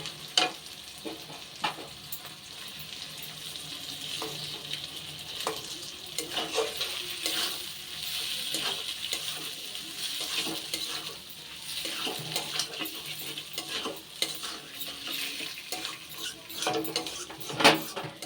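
Fish oil and potato frying in a pan with steady broadband sizzle, a spatula scraping and stirring at intervals, close and continuous throughout, no talking.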